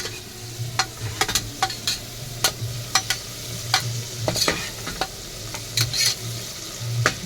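Biryani powder sautés for tomato rice, a steady sizzle in the pan punctuated by frequent sharp clacks and scrapes of a ladle against the vessel, close and fairly loud, no talking.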